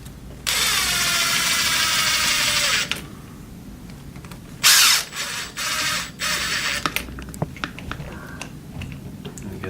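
A power driver whirs in two short bursts running screws into the housing of a Traxxas Rustler 4x4 RC car, followed by clicks, taps and handling noises of parts on a workbench.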